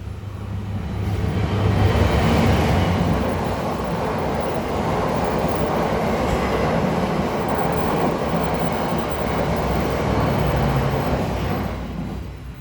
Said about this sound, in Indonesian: ada kereta lagi ya